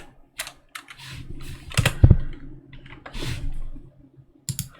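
Computer keyboard typing while entering special characters with the Korean Hanja key: a quiet scattering of light key clicks, with a denser, louder cluster of taps near the middle.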